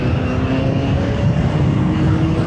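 Engine of a CFMOTO 750SR-S motorcycle while riding, a loud, steady drone under way with no change in pitch and no voices.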